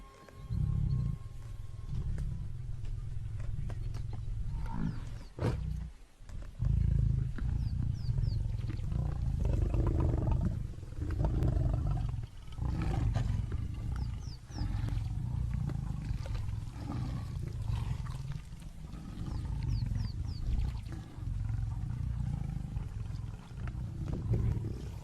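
Lions roar and snarl at a buffalo kill in the African wild, with deep growling roars repeating in bursts over nearly continuous rumbling, close and loud, with no voices.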